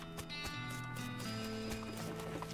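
Horse hooves clip-clop in a video game, a steady loose patter of hoofbeats over a busy game soundtrack with a sustained tonal drone, with no talk.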